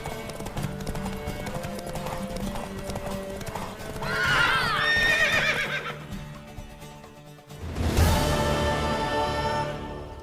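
A horse in The Witcher 3 whinnies twice, loud and close, over steady clip-clop of hooves and game ambience, the second neigh sharper and fuller than the first.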